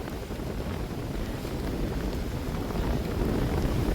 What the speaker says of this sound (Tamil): இந்த சத்தம் கொஞ்சம் டிஃப்ரெண்டாக இருக்கும், மன்னிச்சு கொள்ளுங்க. என்னென்னு சொல்லி சொன்னால் காற்று, சரியான காற்று